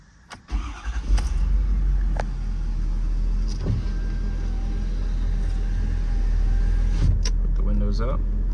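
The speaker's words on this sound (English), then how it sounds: "Put the windows up." Power windows hum upward in a 2019 Ford F-550 4WD service truck as its engine idles steadily underneath, with a few clunks and a voice speaking nearby.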